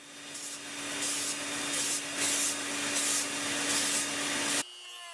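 Sandpaper rubs by hand across the belly of a steel-cable knife handle, rhythmic back-and-forth scratchy strokes about once per second, close and fairly quiet, ending abruptly.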